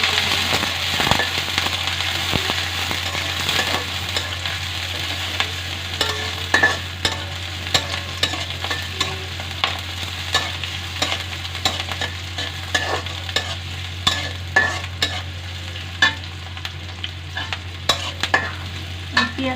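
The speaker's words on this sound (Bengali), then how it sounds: "পেঁয়াজটাকে ভালো করে ভেজে নিতে হবে।" Chopped onions frying in a pan, a continuous sizzle with frequent scraping and stirring clicks from a utensil, close and steady with no talking.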